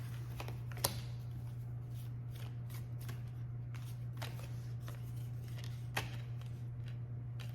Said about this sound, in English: I shuffled again